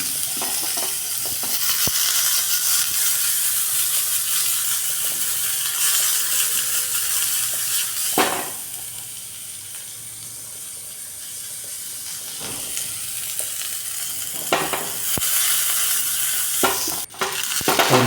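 Small onions sauté in a teaspoon of ghee, a continuous sizzle broken by occasional spoon scrapes and louder clatters toward the end, for a mutton soup; no voices.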